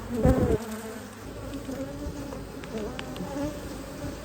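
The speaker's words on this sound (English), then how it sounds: "Yeah, I think these bees have been busy." Honeybees buzz in a dense, steady drone close by at a hive, with a louder burst of buzzing right at the start before it settles into a constant hum.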